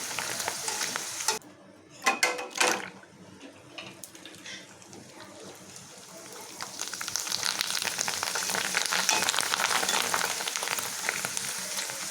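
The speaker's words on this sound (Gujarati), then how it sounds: "હવે એની સાથે ખાવા માટે ભૂંગળા આપણે તળી લઈએ." Bhungla snack tubes frying in hot oil, a steady bright sizzle that swells louder in the second half, with a few sharp clatters of a utensil near the start.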